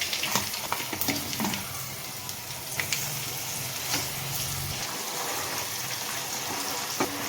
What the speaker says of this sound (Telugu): ఇదంతా బాగా ఆయిల్లో మగ్గే వరకు కలుపుకోవాలి.